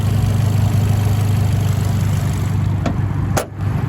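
A 2018 car fitted with a catback exhaust and a turbo intake hose idles steadily with a deep, constant low rumble, close and loud, with a brief sharp click or knock near the end.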